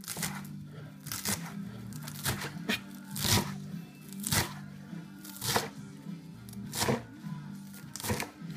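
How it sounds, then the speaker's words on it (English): A knife chops through a rolled-up ball of cilantro on a cutting board in sharp, irregular cuts, a dozen or so crisp knocks spread out over several seconds, close by, with a low steady hum beneath. "chop it up"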